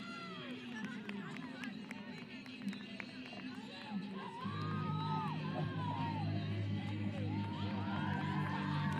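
Bench players cheer and whoop at a women's college lacrosse game, a steady crowd roar that swells louder midway and holds under an announcer's continuous play-by-play.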